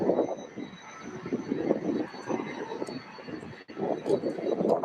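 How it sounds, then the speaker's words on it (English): A UPS Boeing 767-300 at SDF airport makes a distant, rumbling engine roar that holds at moderate level throughout, with faint outdoor background noise around it. "UPS flight 2908 with service to Long Beach. Boeing 767-300, November 313, uniform Papa."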